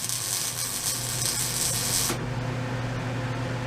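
Welding on a Ford 9 inch rear axle being narrowed in a backyard gives a loud, steady crackling hiss over a low electrical hum, which cuts off sharply partway through.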